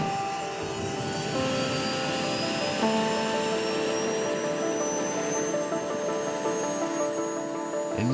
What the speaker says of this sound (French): C'est en hélicoptère qu'elles se rendent à leur travail.